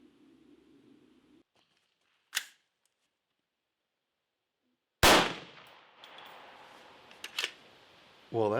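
A 40-grain VMAX 5.7 round from FN strikes Cannae IIIA body armor in a single sharp, loud report that decays quickly, with faint clicks and a low hum before it and a couple of small knocks after.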